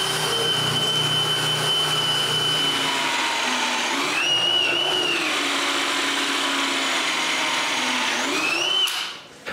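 A power drill bores dowel holes into a clamped wooden rail for a pickup truck rack, a steady close whine that rises and dips in pitch as the bit cuts, then stops abruptly near the end.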